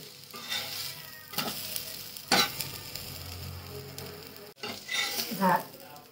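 A besan-coated vegetable patty fries in a pan while being pressed down and turned, giving a soft continuous sizzle broken by several scraping, clattering spatula strokes, with no talking.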